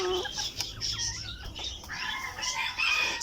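A Modern Game Bantam rooster crows in a backyard coop, a short strained call with clucking and a brief flutter of wings nearby, fairly close and clear.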